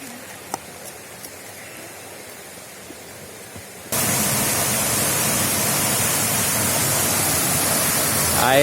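Quiet outdoor ambience gives way abruptly to a loud, continuous rushing roar of the Pria Laut waterfall in Sabang, Aceh, Indonesia, filling the rest of the clip.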